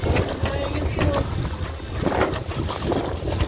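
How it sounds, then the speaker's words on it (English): Steady wind buffeting a sailboat in light breeze, a loud continuous rush with gusty swells and microphone wind noise throughout, water faintly beneath. "The wind is excruciatingly annoying."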